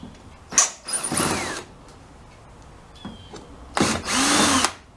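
A power screwdriver backs screws out of a 1969 Volkswagen Fastback Type 3, whirring in two loud, close bursts separated by quieter shop noise and a faint squeak.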